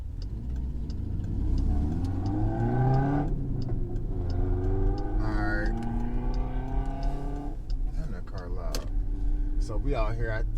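A car accelerates on a drive out to a county jail, the engine note rising in pitch through repeated gear climbs, loud and close, with occasional speech faintly over it.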